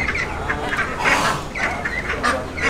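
Ducks quack and cluck in repeated bursts at a poultry seller's stall in Bali, close and fairly loud over a steady background of market noise.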